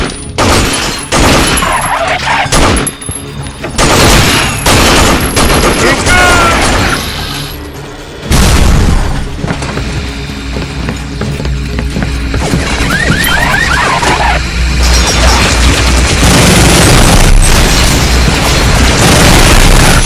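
Loud, close bursts of gunfire and booming impacts in the video game Binary Domain, mixed with mechanical clanks and crashes, growing into a dense, sustained clamour toward the end.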